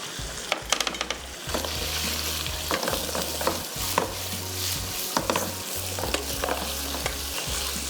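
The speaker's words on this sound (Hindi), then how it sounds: "चिकन को डाल के कर लेंगे अच्छे से सौते।" Chicken sautéing in a pan with garlic, a close, steady sizzle with repeated stirring and scraping strokes and a few clattering knocks, no voices.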